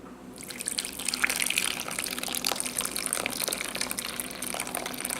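Liquid poured into a well of flour for French bread dough, a steady close trickle and gush running for several seconds with small splashy dribbles.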